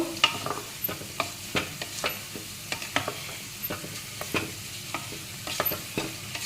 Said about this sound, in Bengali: এবার এইটা একটু ভাজা ভাজা করে নেব চালটা তেলে